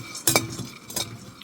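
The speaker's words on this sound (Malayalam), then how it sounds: "കസുവണ്ടിപ്പരിപ്പ് വറുക്കുകയാണ്" Cashew nuts roasting in a pan while being made into black rice laddu: a few short scraping, clinking stirs against the pan, close and fairly quiet, separated by soft background hiss.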